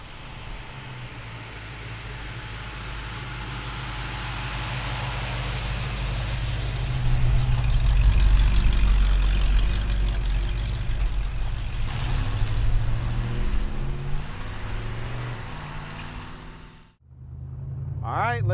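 A 1942 Ford cabriolet engine idles with a steady low rumble that swells slightly midway, then cuts to a brief silence before sounding again.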